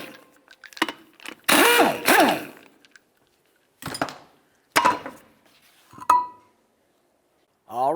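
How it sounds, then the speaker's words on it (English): Clinks and clanks of 21mm lug nuts being loosened and taken off a 2007-12 Nissan Sentra wheel, with a short burst of tool noise near the start, then several separate metallic knocks with quiet gaps between them. "we're going to remove all 4 of our 21mm lug nuts and then the wheel"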